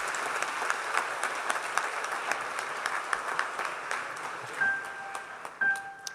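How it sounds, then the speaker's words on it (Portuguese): Church congregation applauding together, a steady wash of clapping that fills the room, with a couple of brief pinging tones near the end. "Aplaudo o Senhor Jesus."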